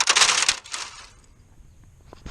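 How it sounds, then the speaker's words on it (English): An old plastic gable vent, brittle and degraded by UV, cracks and shatters in a loud burst of crunching breakage, followed by quieter scattered crackles and a final sharp snap. "The UV had caused this vent to start to shatter and break."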